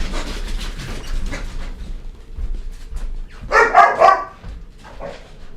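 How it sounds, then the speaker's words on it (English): Dogs barking in the background of a room, a few scattered yips early, then a loud, close burst of several barks in the middle, followed by a fainter bark or two. "that's just my dogs in the background"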